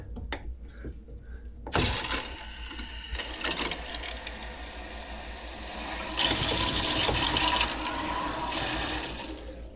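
Water rushing through newly opened plumbing valves in a Tennessee holiday home build, beginning with a sharp valve clunk and then a steady, loud hiss of flow that swells partway through.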